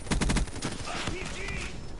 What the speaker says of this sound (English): Someone's shooting an RPG.